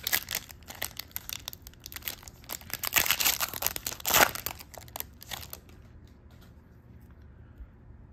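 A 2016 Donruss Optic baseball card pack is torn open with close, busy foil crinkling and ripping that peaks midway, then fades into quiet handling.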